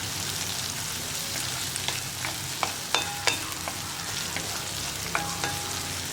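Garlic and onion fry in oil for an easy tomato curry, a steady soft sizzle broken by scattered metallic scrapes and taps of a spoon stirring the pan, with no voices.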